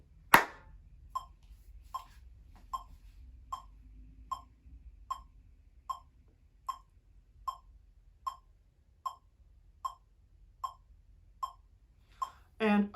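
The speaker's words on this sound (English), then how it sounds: "We're going to count and clap number 2 at the same time, okay?" Students clap in a steady, even rhythm during a classroom counting lesson, about sixteen crisp claps spaced roughly a second apart, with faint room noise between them.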